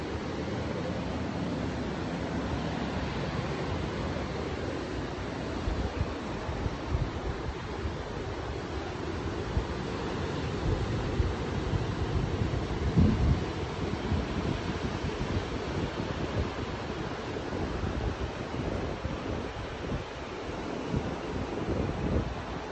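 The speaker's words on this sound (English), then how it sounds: "That noisy ocean." Ocean surf rolls in continuously near a rental unit, a broad steady wash of waves mixed with gusty wind buffeting the microphone, moderately faint with no voices.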